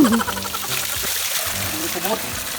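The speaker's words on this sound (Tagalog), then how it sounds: "Mao ni ang tubod sa Bohol. Kusog ng aga tubig ka." Strongly flowing spring water at a natural spring in Bohol rushes as a steady broad wash, with people talking over it throughout.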